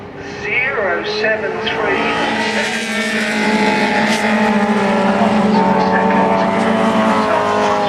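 Racing cars run side by side past the start-finish line at a circuit, a loud sustained engine roar with shifting pitch, heard together with talking throughout.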